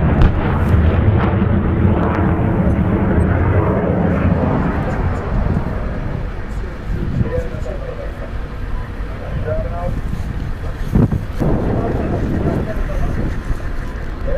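A US rocket launcher fires rockets during Jordanian Army training, a loud sustained roar and rumble that gradually eases, with scattered bangs and faint voices underneath.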